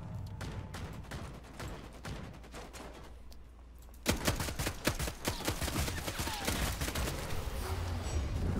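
Rapid bursts of gunfire from the video game Blood Hunt crackle in fast volleys, quieter at first and then louder and denser in the second half, with faint voices in the background.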